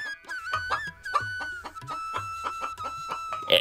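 Domestic chickens cluck repeatedly and close by in a village setting, a steady run of short clucks with one brief louder squawk near the end, no talk.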